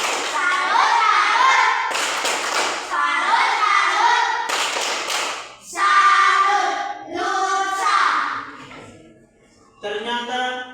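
Children in a classroom doing a 'tepuk salut' clapping cheer, rhythmic claps punctuating loud chanted young voices in a repeated pattern, close and lively.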